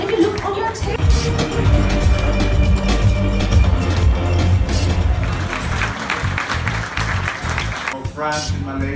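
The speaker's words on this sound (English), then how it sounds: "The organizers, a big round of applause." Applause for the organizers at a Carlsberg 1664 Blanc media launch dinner, a steady crowd clapping that fills the room for several seconds under a loudspeaker voice and background music.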